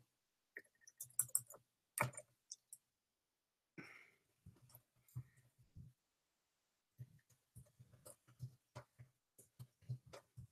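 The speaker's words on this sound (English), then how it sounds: "Let me type a message into somebody." Someone typing a message on a computer keyboard, scattered bursts of quiet clicking keystrokes with pauses between, close and soft in an otherwise quiet room.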